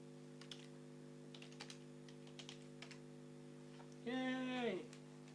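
Typing on a computer keyboard to write a chat message, light scattered key taps over a steady background hum, with a brief tonal sound near the end.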